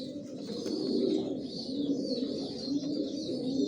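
Racing pigeons cooing in a loft, a steady overlapping chorus of low, throaty coos that carries on without pause, with a few faint higher chirps on top.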